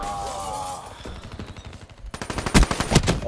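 Rapid automatic gunfire in a video game, starting muffled and distant then bursting into a loud close stream of shots with sharp bangs near the end.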